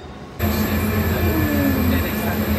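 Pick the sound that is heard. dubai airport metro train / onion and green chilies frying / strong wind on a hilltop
dubai airport metro train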